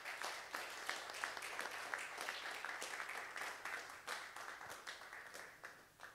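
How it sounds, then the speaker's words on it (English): Faint, distant applause from an audience at a campaign launch event, a thin patter of individual claps continuing steadily. "a lovely applause for the lady"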